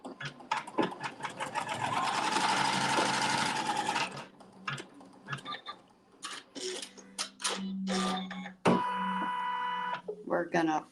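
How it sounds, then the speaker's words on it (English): A sewing machine stitches a fabric seam in quick bursts of rapid mechanical whirring, starting and stopping, with a person speaking between runs during a log cabin quilt workshop. "sew the seam"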